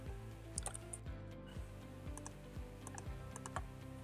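A computer keyboard being typed on at a steady pace, with a run of close, crisp key clicks and a few louder taps, quiet overall and without voices.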